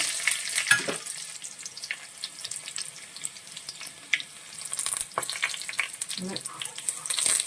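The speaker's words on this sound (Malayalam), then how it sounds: "കടുക് പൊട്ടി വരുമ്പോഴേക്കും നമുക്ക് ചെറുള്ളി ഒന്ന് ചേർക്കാം. അതുപോലെ തന്നെ ചുവന്ന മുളക്," Mustard seeds, shallots and red chillies frying in hot oil for a roasted-coconut crab curry, a steady close crackling sizzle with small pops and occasional stirring clinks throughout.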